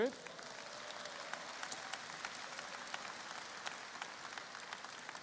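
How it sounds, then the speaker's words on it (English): Audience applause at a business conference, a steady dense patter of many hands clapping from a moderately distant crowd, continuing evenly throughout. "Give Rick a round of applause for that"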